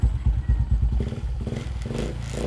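A Suzuki Raider J Fi motorcycle engine starts and runs close by after battery rewiring, with a rapid chugging idle pulse that settles into a steadier, slightly revved running hum, no talking.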